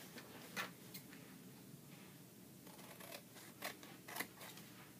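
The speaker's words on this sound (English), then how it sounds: "I'm going to cut each of these pieces out." Scissors snip through paper pieces for a folded gift box, a few quiet, sharp cuts scattered over a faint background.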